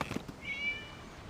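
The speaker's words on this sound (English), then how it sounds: "It was just a cat." A cat in the Genshin Impact video game gives a short, thin meow, rising and then held for under a second, heard fairly close against a soft game background.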